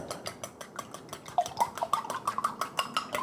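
Eggs are beaten for fried rice, a fork or whisk clicking steadily against the bowl in a quick, even rhythm that grows a little louder and sharper toward the end.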